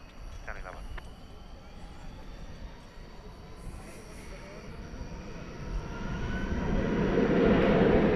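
An American Airlines jet airliner takes off at night at DFW Airport, its engine roar swelling from distant to loud over several seconds while radio chatter and a voice talk over it.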